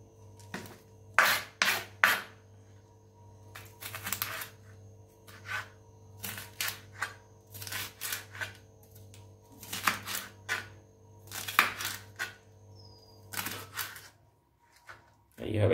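Green vegetables chopped on a cutting board for a Chinese-style chicken and broccoli fry: a series of crisp, close knife strikes in uneven bursts separated by short pauses, with a steady low hum underneath.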